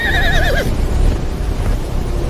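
A single loud horse neigh rings out as a sound effect, a wavering whinny that cuts off after half a second and leaves a low rumbling background.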